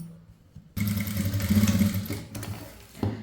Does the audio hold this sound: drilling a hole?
no